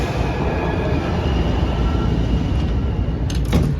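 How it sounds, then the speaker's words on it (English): Holiday-decorated Washington Metro subway train pulling out of Fort Totten station, a loud continuous low rumble of rail wheels with a steady motor tone and brief metallic squeals near the end, no talking. "Now let's watch as our train pulls out of Fort Totten."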